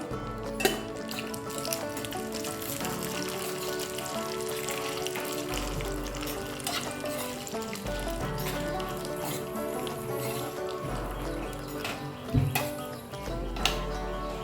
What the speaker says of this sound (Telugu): అందుకనే మొత్తాన్ని నేను ఒకేసారి వేయించుకుంటున్నాను